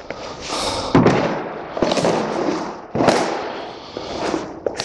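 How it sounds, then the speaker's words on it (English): A cardboard nappy box crushed beneath a 17-stone, 6'2" man standing on it gives loud, close crunching bursts, with two main crashing collapses about two seconds apart amid ongoing crackling and rustling. "Obviously when I stand on this, it's just going to collapse."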